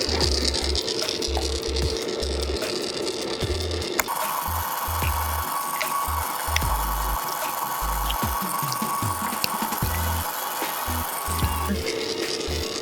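Stand mixer creaming butter and sugar for a chocolate pumpkin pound cake as eggs go in one at a time, a steady close mechanical whir with rattling beaters and small knocks running throughout.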